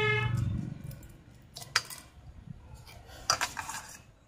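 A metal blade scrapes scales off a tilapia in a few short, raspy strokes, faint and close, with a low hum at the start and quiet pauses between strokes.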